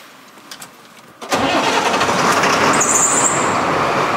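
Truck engine cranks and fires, then runs loudly and steadily up close, with a high squeal from a newly fitted, tightened belt appearing briefly near the end.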